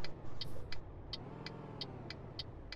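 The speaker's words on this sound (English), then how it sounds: "Over revved the engine a bit there." Truck engine in Euro Truck Simulator 2 over-revs while struggling to pull a heavy load uphill, a steady loud drone with rising pitch and a regular ticking indicator-like click repeating through it, no talk.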